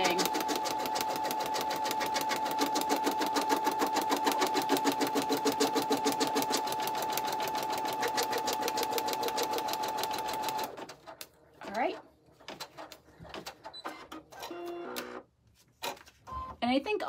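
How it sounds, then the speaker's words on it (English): An embroidery machine stitches a vinyl placement onto stabilizer with a fast, even mechanical chatter that runs loud and steady for about ten seconds, then stops, leaving scattered handling clicks and quiet movement. "stitch that right on your stabilizer"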